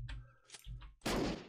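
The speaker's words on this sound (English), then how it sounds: "I can just throw grenades in there." Grenades explode in the video game Unturned: a few short pops and thuds lead into a loud, broad final blast that rumbles briefly, with no one speaking.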